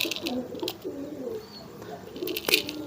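Pigeon squabs held in hand give soft, low cooing, repeated throughout, with a few brief sharper sounds near the end.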